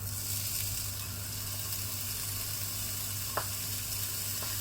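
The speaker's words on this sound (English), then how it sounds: "we're going to brown the ginger and the garlic" Steady oil sizzle from a frying pan browning ginger and garlic, a constant hiss with a couple of faint clicks or stirs toward the end.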